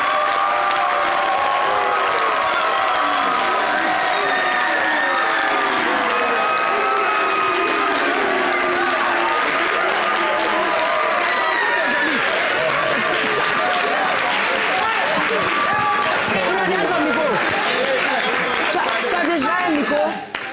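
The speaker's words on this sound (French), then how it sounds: "Applaudissez pour Daniel." Loud, dense applause and cheering from a large audience at a televised Christmas Eve variety show fills the whole stretch, steady and close, with voices shouting amid the crowd.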